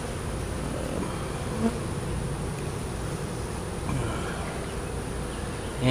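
A steady, dense buzzing of many honey bees around a newly introduced queen fills the air, continuous and close, with no voices over it.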